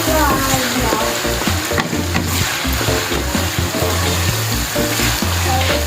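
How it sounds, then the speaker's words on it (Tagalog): Meat toasting in a hot pan for bagoong, a loud, constant crackling sizzle with repeated scraping stirs, close up and without talk. "So medyo i-toasted po natin ang ating karne para hindi agad mapanis yung ating bagoong."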